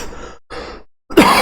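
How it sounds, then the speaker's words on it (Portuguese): A single harsh cough bursts out near the end, following two brief muffled throaty sounds separated by silence. "Perdão aí pela tosse."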